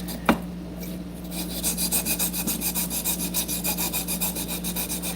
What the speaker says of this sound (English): we're going to grind all of that enamel down